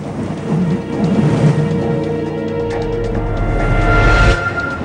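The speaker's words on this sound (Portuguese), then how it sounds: "o ambiente de tempestade perpétua criaria um planeta excepcionalmente barulhento." A steady wash of rain accompanies rumbling thunder in a perpetual storm, with a low roll swelling in the second half and loud, dense, continuous noise throughout.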